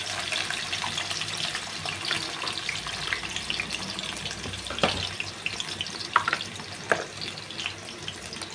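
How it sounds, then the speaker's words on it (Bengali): Potatoes frying in oil in a pan, a continuous hissing sizzle with intermittent stirring scrapes and clatters growing busier toward the end, no one speaking. "এবার উঠিয়ে রেখে আমি আলুটা ভেজে নিচ্ছি।"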